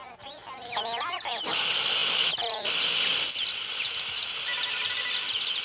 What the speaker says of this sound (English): Get those blasted birds off my antenna!